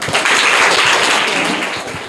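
Loud, dense clapping from a crowd of students in a private school classroom rewards a correct quiz answer, a short burst that holds steady then tapers.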